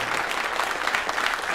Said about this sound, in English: I get a lot of applause.